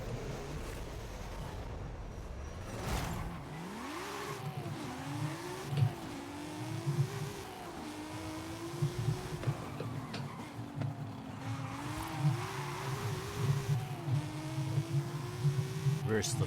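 Two S1-class race cars in the video game Forza, engines droning and revving with rising and falling pitch as they accelerate, a steady loud whine running under the clip with a voice talking over it.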